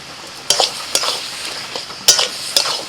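Kochu shaak cooked down with ilish fish head in a hot pan as the water dries off, stirred in a few sharp scraping strokes at irregular intervals over a soft continuous sizzle, close and alone without voices.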